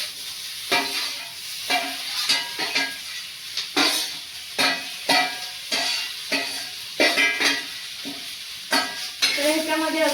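Onion and tomato frying with browned coconut in a pan for a traditional Marathi fish curry, a steady sizzle broken by repeated scraping stirs, close and moderately loud, with no talk.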